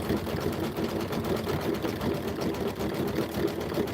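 Embroidery machine stitching a Kimberbell Save the Date design in a sewing shop, a steady, dense mechanical whirr with fast rapid needle pulses running continuously and fairly loud throughout.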